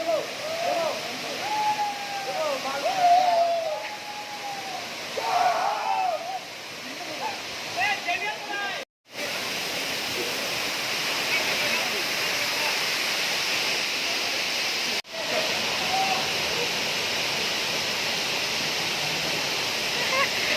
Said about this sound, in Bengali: ঝর্ণার জলটা এসে মাথায় পড়ছে সেখানে দাঁড়িয়ে আছে দেখো